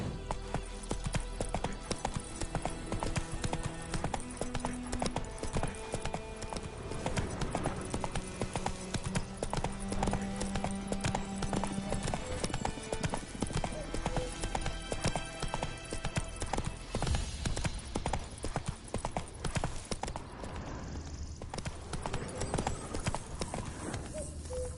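Hooves of Roach, a horse in a video game, galloping in a fast, continuous clip-clop rhythm over a dense game soundscape, steady and near throughout with a faint voice briefly under it.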